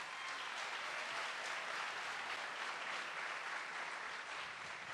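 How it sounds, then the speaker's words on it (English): Sustained audience applause at a concert, steady broadband clapping from a large crowd, holding even and unbroken with no talk over it. "they get a bigger round of applause."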